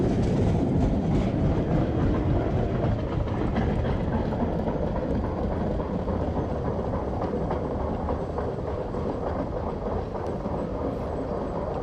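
A passenger train on the line near Biscotasing and Ramsey Lake rumbles past close by, a steady loud roar of wheels with rhythmic clickety-clack on the rails sustained for the whole stretch, no voices.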